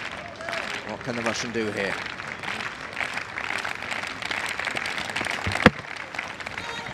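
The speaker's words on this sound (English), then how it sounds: "Asks for applause from the crowd, and you can hear the applause." Stadium crowd at an evening session of the 2013 IPC Athletics World Championships in Lyon, applause swelling and then holding at a moderate level, with a commentator talking over it and a single sharp thud near the end.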